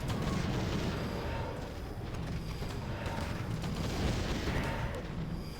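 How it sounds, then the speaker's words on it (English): Three mortar teams pound the Black Citadel in a real-time strategy game, a continuous rumbling barrage of booms and blasts forming a dense, steady roar of battle with no clear gaps. "Black Citadel is taking a lot of damage from these mortar teams"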